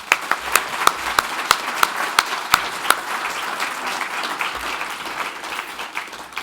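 An awards ceremony audience applauds an honoree, beginning with several sharp, distinct hand claps close by that quickly blend into a softer, sustained wash of clapping across the room.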